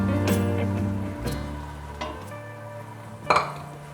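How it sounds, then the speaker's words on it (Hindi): Tomato puree sizzling in a pan for a Pakistani daal mash, with a few stirs and utensil scrapes and knocks against the pan, heard close up. "ये थोड़ा सा भूनेंगे। ये हम अपनी प्यूरी जो है ना टमाटर की डाल दी"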